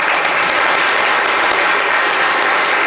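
Studio audience applause on a live television talk show, a loud, dense, continuous crackle of many clapping hands sustained evenly from start to finish with no talking over it.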